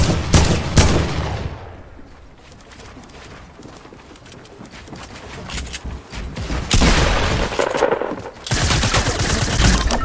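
Gunfire aimed at the player in Fortnite: sharp, loud rapid-fire bursts at the start and again in the final seconds, with a quieter stretch between and scattered shots mid-clip.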